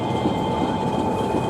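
Train idling at a railway station platform, a steady loud mechanical rumble with a constant hum throughout, no talking.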